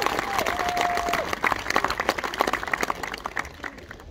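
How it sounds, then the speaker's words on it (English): Spectators at a WHFTA hunter field target world championship give the players a round of applause, sparse claps rising out of a fading voice and thinning toward the end. "Massive round of applause for these guys."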